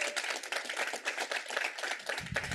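Audience at an anniversary event for Filipino and Mexican farm worker unity breaks into enthusiastic applause, dense rapid clapping from many hands, close and sustained throughout.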